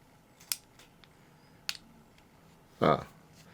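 A CRKT M16-04Z folding knife opened with its thumb stud, with a couple of sharp metallic clicks followed by a short, louder snap of the blade locking, close and quiet otherwise.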